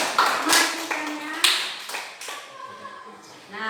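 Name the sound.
applause in a classroom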